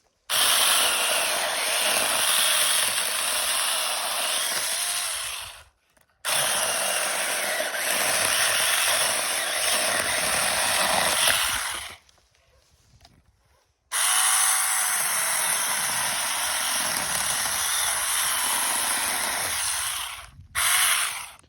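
A small battery Tech.As mini chainsaw with a short bar cuts through tree branches, a loud, continuous high-pitched whine in long bursts of about five seconds each, separated by brief pauses, with no one talking.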